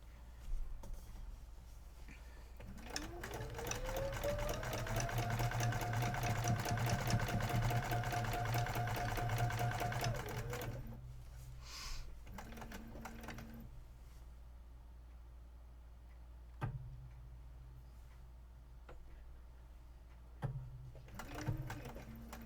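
A sewing machine running for machine quilting, with a rapid steady needle chatter and a rising motor whine that holds for about eight seconds before stopping, then brief short bursts of stitching and faint handling clicks in a quiet room.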